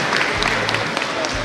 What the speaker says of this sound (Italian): un altro applauso per Irene, vai, numero 17.